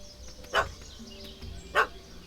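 Dog in The Witcher 3 barking at a cat up a tree: two short, faint barks about a second apart, with quiet game ambience around them.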